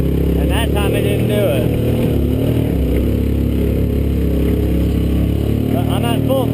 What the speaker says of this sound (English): I'm at full throttle right now